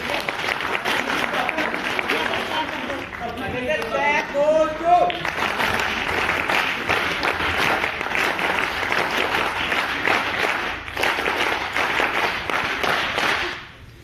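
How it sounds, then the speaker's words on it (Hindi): An audience in a motivational session by an entrepreneur and start-up founder claps loudly and steadily for a named participant, a dense burst of applause that fills the room, with a voice cutting through briefly partway. "एक बार तालियां इनके लिए"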